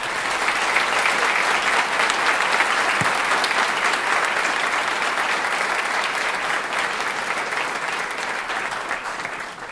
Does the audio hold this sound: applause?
yes